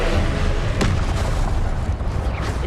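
A Confringo blasting spell explodes in the Hogwarts Legacy video game, a loud booming burst with a sharp crack near the start that trails into a rumbling, dense roar.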